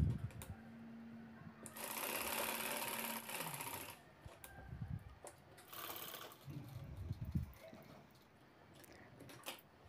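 A sewing machine stitches a pocket onto the lining of a handbag, running in two loud whirring bursts with a quieter pause and soft handling noises between them, no talking.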